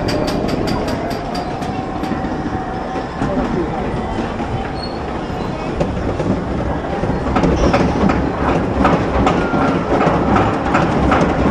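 Vortex roller coaster at Canada's Wonderland, its cars rattling and clacking along the track with a low rumble and faint wheel squeal, growing louder toward the end as voices speak.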